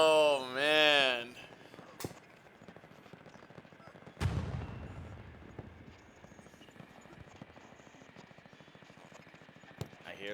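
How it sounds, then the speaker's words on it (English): Bombing run during a Hell Let Loose game, a heavy explosive blast with a long rumbling decay amid sporadic distant gunfire, preceded by a rising siren-like wail; a player talks briefly. "I hear the strafing run, I think. Nope, bombing run."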